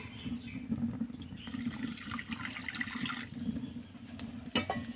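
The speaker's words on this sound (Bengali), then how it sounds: "কড়াই আমি হাফ বাটি চিনি দিয়ে দিচ্ছি এবার দিয়ে দেবো জল" Water splashes and gurgles as it is poured into a kadai holding half a bowl of sugar for syrup, a close, continuous pour with a few brief clatters.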